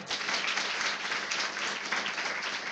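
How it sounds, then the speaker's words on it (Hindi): A congregation applauding during a worship service, many hands clapping together in a full, steady burst that holds at an even level for the whole moment, with no talking over it. "प्रभु के लिए तालियां नहीं बजाएंगे?"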